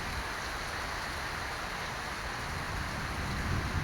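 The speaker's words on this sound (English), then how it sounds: "But yeah, you know I like the rain." Summer rain in Texas falls steadily as a soft, continuous hiss of drops on surfaces, even and moderately close, without voices.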